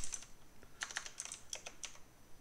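Typing a line of code on a computer keyboard: a short run of quick, light key clicks in uneven bursts, close and alone with no voices.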